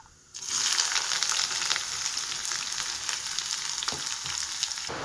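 Sliced onions drop into hot oil with mustard seeds in a pan, setting off a sudden loud, dense sizzle that holds steady and close, with a few faint stirring clicks.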